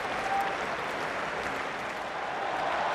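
A cricket crowd at an England versus New Zealand Test applauds a wicket with a steady, distant wash of clapping and murmur that holds for the full length.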